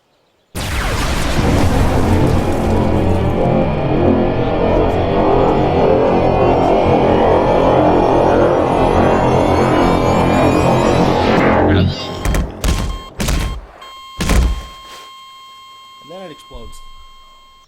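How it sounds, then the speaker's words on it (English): Dark matter bomb from the gbombs addon in Garry's Mod going off, a sudden loud roaring blast sustained for about eleven seconds that breaks into stuttering bursts and electronic tones before fading. "Then we have the dark matter bomb."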